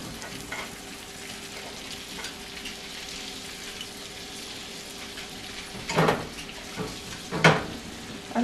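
Steak frying in brown butter in a pan, a constant close sizzle with a few louder bursts of spattering and scraping near the end.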